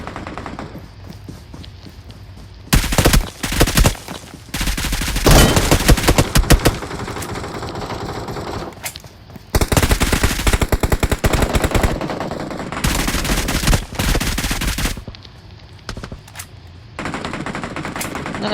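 Rapid machine gun bursts in a video game, loud, dense automatic fire in several long stretches separated by brief lulls, with faint voices underneath.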